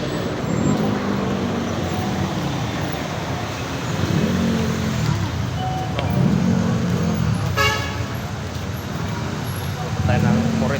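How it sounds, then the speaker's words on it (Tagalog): Heavy road traffic streams past near the UST overpass in Manila, a steady roar of engines and tires with brief horn toots, while a voice talks over it throughout. "napaka-traffic talaga."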